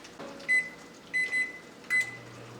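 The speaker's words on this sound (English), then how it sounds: "I'm gonna go ahead and pop this in the microwave for 1 minute" A microwave oven heating a bowl of oats runs with a low steady hum, broken by three short, loud high-pitched beeps, each close and clear, with no talking.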